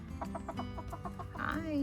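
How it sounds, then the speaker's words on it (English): A rooster in a backyard garden gives a run of short, rhythmic clucks close by, then a rising, drawn-out call at the end, with no talking. "There's my crazy little rooster."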